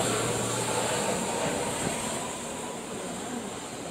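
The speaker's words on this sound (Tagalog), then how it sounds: "Yan yung ano, yan yung tren." A steady, loud rumble of a train in Rotterdam, Netherlands, with a continuous broad roar that fades slightly toward the end.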